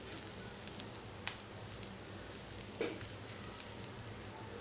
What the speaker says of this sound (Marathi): आणि असं व्यवस्थित परतून घेत आहे